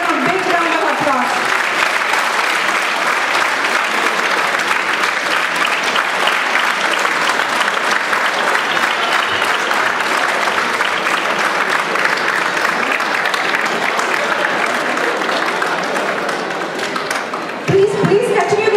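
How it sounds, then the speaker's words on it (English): An audience at a Chennai flood relief event applauds as guests from supporting organizations come onto the stage, loud sustained clapping filling nearly the whole stretch before easing off right at the end. "Yes, please give them a big round of applause."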